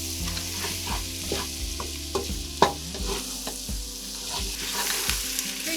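Spices sizzle in a hot pan while a spoon scrapes and stirs them in irregular strokes, a close, quiet frying crackle with one sharper knock against the pan.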